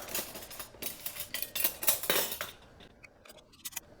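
Lid and screw ring being turned onto a glass canning jar of pickled pepperoncini in brine, giving a series of close scraping, clinking metal-on-glass sounds that fade to a few faint clicks.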